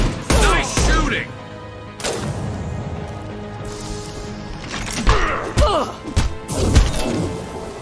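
Gunshots and impact thuds from a Mass Effect Legendary Edition firefight, arriving in scattered bursts with sharp cracks amid layered game sound and music, moderately loud and close.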